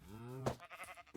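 A sheep bleats once in Minecraft, a long wavering nasal cry up close, followed by a few shorter soft game sounds.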